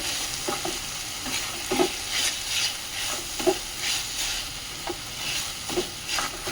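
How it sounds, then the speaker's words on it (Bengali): Vegetables coated with turmeric and chilli powder are stirred in a frying pan, a spoon scraping in a steady repeated rhythm over a soft constant sizzle, close by and without speech. "সবগুলো ভালো করে মিশিয়ে নিচ্ছি সবজিটা বেশ ভালো করে এই যে এরকম করে মিক্স করে নিচ্ছি"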